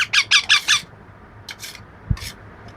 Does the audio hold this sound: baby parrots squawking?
yes